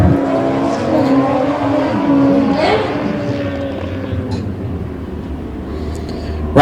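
A drag race vehicle runs hard down the drag strip at a finals event, a loud continuous engine roar holding steady under power and then slowly easing off as it rolls away.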